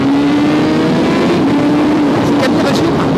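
A Honda CBR1000RR-R Fireblade SP sport motorcycle with a 217-horsepower engine revs loudly and close by, a sustained droning engine note that holds steady and rises slightly, with speech underneath.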